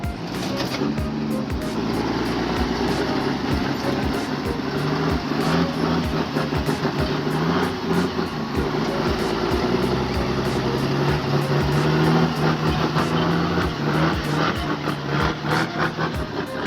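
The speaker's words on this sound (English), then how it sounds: "The engine growls, moving step by step as if to declare it will never bow to nature." A logging truck hauling pine logs strains uphill on a slippery forest slope, its engine growling in a steady, loud drone with continuous rumble and no speech over it.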